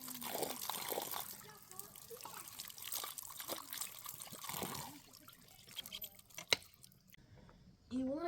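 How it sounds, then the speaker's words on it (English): Water trickles and splashes while a tanned coyote hide is rinsed off, a soft steady wash of running liquid with a few sharper drips and a brief louder splash near the end. "it's been 30 minutes now, so I'm going to go take it back up there and rinse it off"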